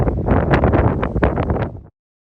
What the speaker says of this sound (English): Good wind and a lot of clouds ripping through here this morning